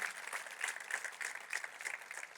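Applause from a congregation at a church service, a faint, steady patter of clapping that continues for the whole stretch.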